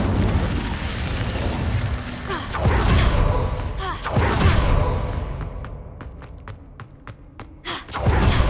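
An Incendio fire spell cast in Hogwarts Legacy, a series of deep whooshing booms and thuds rolling over several seconds, followed by scattered crackling pops, with no talk over it.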